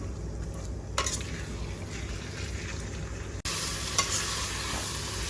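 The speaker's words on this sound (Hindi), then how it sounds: "चिकन को पहले हम मिक्स कर लेंगे, और 2 से 3 मिनट तक इसको हम कुक करेंगे लो फ्लेम पे" Chicken for karahi sizzles loudly in a pan over a low flame while being stirred, a steady close frying hiss with scraping stirs and a sudden jump in loudness partway through.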